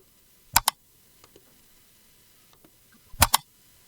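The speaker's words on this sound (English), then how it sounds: "that's how this mouse click sounds" Two sharp double clicks of a mouse button, close and crisp, separated by a few seconds of near silence with faint softer ticks between.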